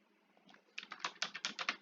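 Quick, soft keystrokes on a computer keyboard, about a dozen clicks in a short burst that grows slightly denser toward the end, heard close and alone.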